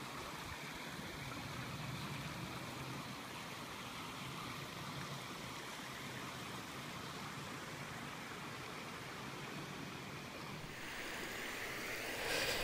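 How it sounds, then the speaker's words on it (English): A seasonal stream that flows only after heavy rain runs steadily nearby, a continuous broadband rush of water with no pauses, holding an even loudness throughout and swelling slightly toward the end. "What you're hearing is a stream"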